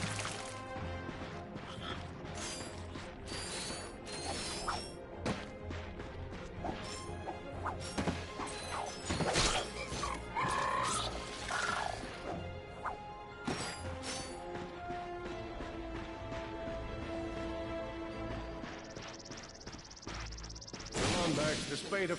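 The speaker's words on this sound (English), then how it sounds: "Look at him smashing crates." Ratchet smashing crates in Ratchet & Clank on PS5: a rapid series of sharp wooden crashes and thwacks, some close and loud, scattered across the stretch amid whooshes and game effects.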